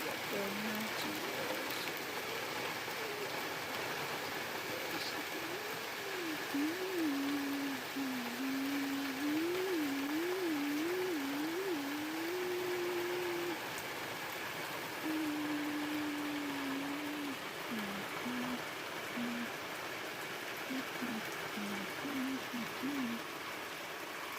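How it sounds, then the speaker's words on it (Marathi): Heavy unseasonal winter rain pouring down in the Konkan, a constant dense hiss of rainfall throughout, while a voice talks steadily over it. "पुन्हा आज हा पाऊस जोरदारपणे पडायला आता सुरुवात झालेली आहे"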